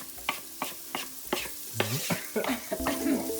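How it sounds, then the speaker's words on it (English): Onions fried and stirred in a pan, a spoon scraping in quick regular strokes over a bright, continuous sizzle that thickens toward the end, close and without talk. "प्याज डालकर भूनेंगे।"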